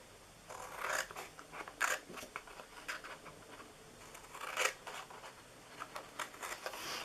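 Scissors snip through a hot chocolate treat box at its score marks, a quiet run of short, crisp cuts and paper rustles spaced irregularly, close to the listener.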